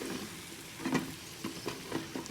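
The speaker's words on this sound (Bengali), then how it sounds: "এখানে সব কিছু ভালো করে কষায় নেব" Spice paste sizzles quietly in a pan as it is cooked down for a fish dish, a steady low hiss broken by soft stirring scrapes at irregular intervals.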